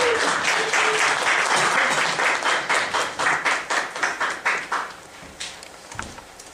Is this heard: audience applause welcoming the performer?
yes